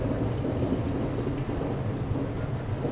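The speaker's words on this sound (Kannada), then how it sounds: "ಚಾಮರಾಜನಗರ ತಿರುಪತಿ ಎಕ್ಸ್ಪ್ರೆಸ್ ಎಂಟ್ರ್ ಆಗೈತೆ ರೀ ಈಗ ಬಂಗಾರಪೇಟೆ ಜಂಕ್ಷನ್ಗೆ." Chamarajnagar–Tirupati Express rolling into Bangarapet Junction, a steady low rumble of the train heard from on board, continuous and fairly loud with no voices.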